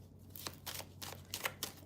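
Tarot cards are shuffled by hand in a quiet room, several soft riffling bursts and taps spaced unevenly, close and faint.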